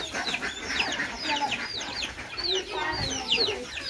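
Chickens and ducks clucking and chattering nearby at a rural home in Bangladesh on a rainy morning, a busy, continuous run of calls with faint talk in the background.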